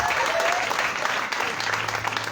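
Audience applause at a French-language religious sermon, a steady dense wash of clapping filling the whole stretch at moderate loudness, with a voice faintly audible underneath.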